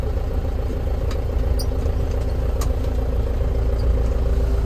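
A John Deere 6310 tractor engine idles steadily close by, a low, even diesel rumble with a light mechanical clatter, with a couple of faint knocks and no talking.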